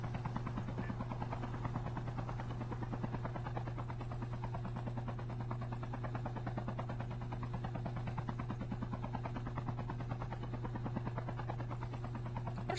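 A helicopter in a Call of Duty battle royale match, rotor noise holding as a steady, loud, continuous drone with a rapid pulsing chop for the whole stretch and no voices over it.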